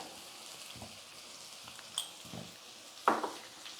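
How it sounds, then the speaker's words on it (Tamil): Onions sauté in a pan for a rava masala dosa filling, giving a steady soft sizzle with a few faint clinks of stirring. "இப்போ வெங்காயம் வந்து நல்லா வதங்கட்டும்"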